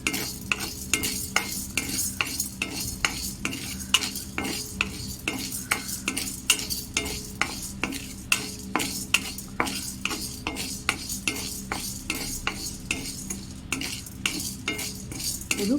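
Chana dal dry-roasting in a pan, a spoon scraping and clinking against the metal in fast, steady repeated strokes, close and fairly loud, with a light rattle of grains.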